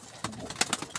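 Large meat-breed pigeons in snowy weather give a few short, close coos and throaty calls in quick succession, with soft rustling between them.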